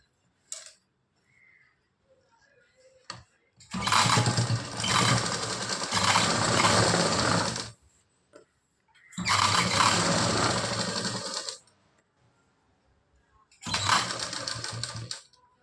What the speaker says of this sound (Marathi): ते या पद्धतीत आपण फिटिंगच्या शिलाई मारून घेणार आहोत.